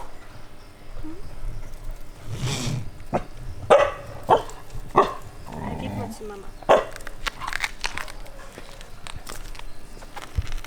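Dogs bark in scattered single woofs against windy outdoor rumble, with footsteps and a person talking intermittently.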